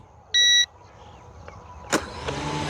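An F88D Max drone starting for flight: one short electronic beep, a pause, then the motors spin up into a close, rising whine with faint handling noise.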